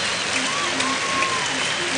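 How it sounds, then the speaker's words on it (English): A college baseball crowd at an Alabama versus Miami game gives a player a round of applause, a continuous wash of distant clapping from the stands that stays even and hiss-like from start to finish. "Grimmett gets a nice round of applause as they go out and check him out."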